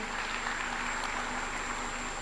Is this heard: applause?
yes